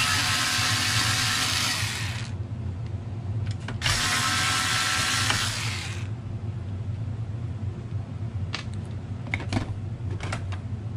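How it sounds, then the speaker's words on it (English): Power screwdriver backing out screws from a bus main board: two sustained loud whirring runs of a couple of seconds each, close by over steady background hum, followed by a few short clicks and taps. "to remove this main board, we've got a couple of screws to take out"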